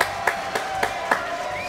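Several sharp claps from a small studio audience, spaced evenly at roughly quarter-second intervals, close and distinct rather than a full round of applause.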